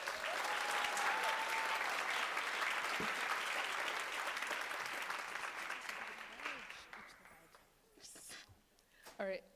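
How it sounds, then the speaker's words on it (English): Applause for National Honor Society inductees at a 2024 ceremony, a full round of clapping from the audience that gradually thins out, followed by quieter voices speaking. "Another round of applause for our inductees."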